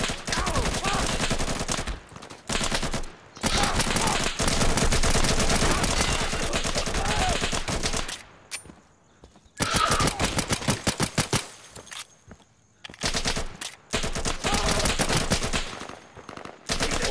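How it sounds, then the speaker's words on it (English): Gunfire in the video game Insurgency comes as dense bursts of rapid automatic shots, loud and close. The bursts are broken by brief pauses of near silence. "People kept shooting me."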